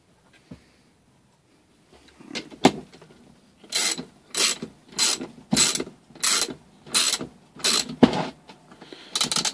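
Ratchet wrench tightening the engine bolts on a 3 horsepower engine during reassembly, giving about ten close, evenly spaced bursts of rapid ratcheting clicks with no talk.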